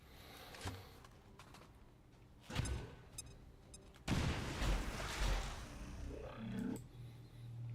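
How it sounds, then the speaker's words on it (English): In a video game, a grenade goes off with a deep booming blast that rumbles and crackles for a few seconds after some earlier sharp clicks and shots. "Grenade!"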